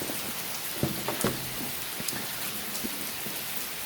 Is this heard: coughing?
no